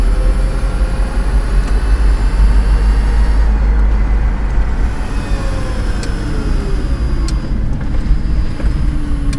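A second-generation Toyota Prius climbs a hill in electric EV mode, heard from inside the cabin as a steady low road rumble and tyre noise with a faint rising motor whine, no engine note, no talking.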